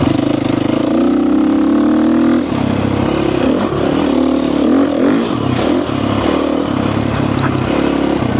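A motorcycle engine runs steadily in a garage, a loud, continuous mid-pitched drone with a slight change in tone partway through and no voices over it.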